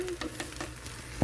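Nurungji, a thin scorched rice crust, frying in a pan over very low heat, giving a steady soft sizzle and crackle with no talking.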